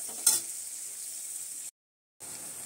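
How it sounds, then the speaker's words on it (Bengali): Chopped onions fry in hot oil for chicken biryani, giving a steady close sizzle broken by a scrape of stirring and one brief drop to silence. "পেঁয়াজটাকে একটু ভেজে নেবো, ভেজে নিয়ে মাংসটা কষাবো।"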